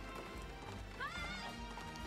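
Horse galloping in the video game Princess Peach Showtime, a quiet, quick clip-clop rhythm running under a dense game soundtrack and background noise, with a brief whinny-like sweep partway through.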